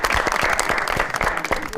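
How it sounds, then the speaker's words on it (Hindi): Lively studio audience applause welcoming a guest onto a television show, loud and close, with sharp individual claps standing out from the dense crowd clapping. "बहुत सारी तालियों में वेलकम कहते हैं जी"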